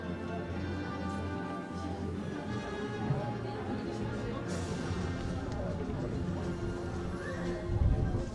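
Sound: horses neighing and hooves clip-clopping

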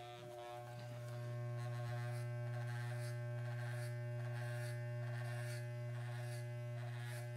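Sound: electric hair clippers cutting hair

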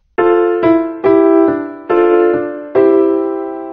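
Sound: piano sound in Disney Mickey Mouse video game

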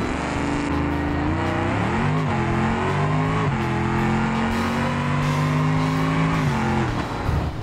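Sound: nitrous-boosted car drag run in BeamNG video game

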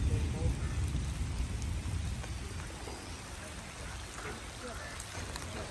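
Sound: rain falling

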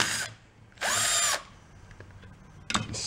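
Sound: power drill taking bolts out of an antique tiller

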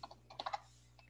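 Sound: typing on a computer keyboard

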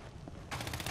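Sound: gunfire in Fortnite video game

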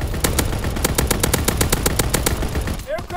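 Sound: anti-aircraft battery gunfire in video game

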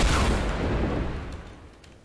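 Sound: gunshot from the video game Fortnite

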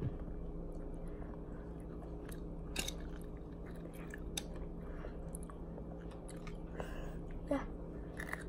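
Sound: biting and chewing food

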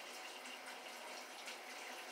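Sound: tap water rinsing sea scallops

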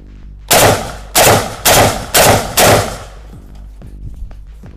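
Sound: Kral Arms Tavor-style shotgun firing a test shot

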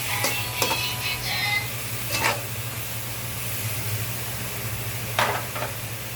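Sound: stirring ginataang kamansi in a cooking pan

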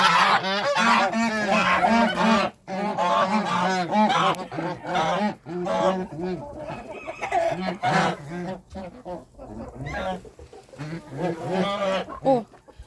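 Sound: geese honking

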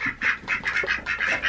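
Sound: ducks quacking

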